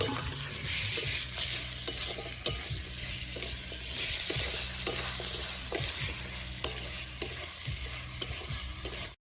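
Cut potatoes fry in a pan with a continuous loud sizzle while a utensil stirs and scrapes them in repeated strokes, no talking.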